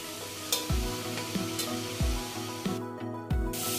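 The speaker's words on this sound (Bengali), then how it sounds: "যেহেতু এটা পালং শাক ভাজা হচ্ছে" Spinach fries in a wok with a continuous hissing sizzle, with several scraping stirs at regular intervals and a tuneful background running underneath.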